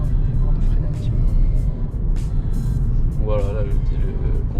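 A 2020 Kia Ceed GT Line drives in sport mode, with steady low engine rumble and road noise inside the cabin while someone talks over it.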